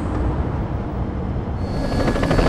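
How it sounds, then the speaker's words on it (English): Helicopter in the Batman Begins video game, a steady, loud broadband rotor and engine roar that holds throughout and builds slightly toward the end, with no talk over it. "I'll hitch a ride once the helicopter's airborne"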